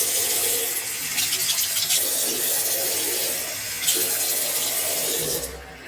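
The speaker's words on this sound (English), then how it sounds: "I'm going to empty this, put water in it" Water running from a tap into a bottle being filled, a steady broadband rush with slight shifts in tone, close and continuous, ending abruptly.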